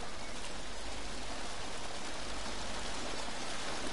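A waterfall in the survival video game Green Hell pours in a dense, steady hiss of falling water, constant and fairly loud with no variation or voices.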